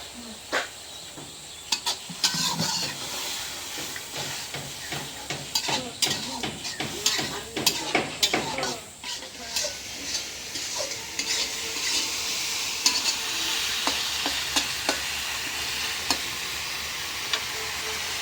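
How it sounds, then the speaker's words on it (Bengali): Ground coriander and chili frying in a pan while being stirred: a continuous hissing sizzle with many rapid scraping and clattering strokes of a spoon, loudest through the middle and easing into an even hiss. "মশলাটা একদম ভাজা ভাজা করে নিলাম"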